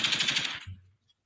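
A rapid burst of gunshot sound effects plays over a radio show, a fast machine-gun-like rattle lasting under a second before cutting to silence.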